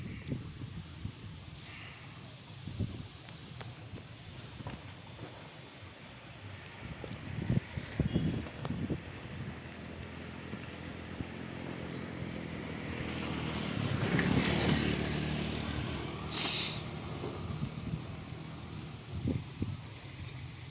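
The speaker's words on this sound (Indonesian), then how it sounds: "Jadi karena ini di hamparan perkebunan, sehingga anginnya begitu sangat kencang ya teman-teman." Strong wind sweeps across open plantation fields, buffeting the microphone in uneven gusts with a swelling roar midway and a passing vehicle rumbling in the background.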